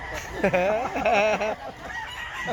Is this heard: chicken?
yes